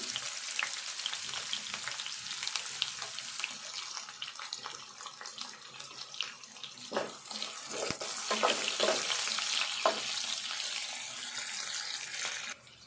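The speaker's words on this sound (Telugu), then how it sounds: "ఇప్పుడు ఉల్లిపాయలు వేసుకుందాము" Onions frying in a pan for chicken leg piece curry, a continuous crackling sizzle close up with sharper pops and spatters growing busier toward the end, no talk.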